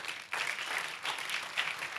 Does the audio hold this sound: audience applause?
yes